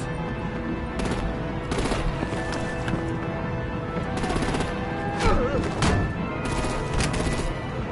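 Gunfire in the Batman: The Enemy Within video game crackles in repeated bursts over a dense, busy mix of action noise, with no clear speech.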